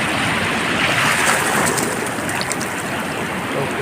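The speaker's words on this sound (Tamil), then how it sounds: "இன்னும் ஒரு அலை வருது" Ocean waves break on a beach in a loud, continuous wash of surf, rising and falling slightly without any clear pauses.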